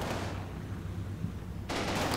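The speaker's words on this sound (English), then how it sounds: "we've also got a machine gun, a heavy machine gun, on the upper floor of this barn here" A heavy machine gun fires in a war video game, sustained bursts of rattling gunfire that break off and then resume loudly near the end, with no talking.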